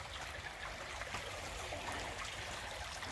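Continuous soft rush of a stream flowing nearby at a thermal spring area in Yalova, Turkey, a steady watery hiss with no breaks or voices.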